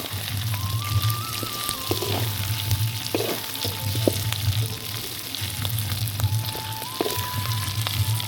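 Meat frying for Tamil uppu kari sizzles steadily in a pan, a loud continuous crackle with brief stirring scrapes and a low hum running underneath, with no voices.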